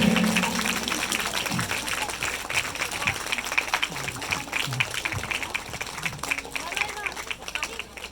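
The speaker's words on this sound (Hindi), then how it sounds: "आप लोग जोरदार ताली के द्वारा अब स्वागत" An audience at a Christmas church gathering claps loudly to welcome a pastor, with a steady wash of applause mixed with crowd babble and scattered voices.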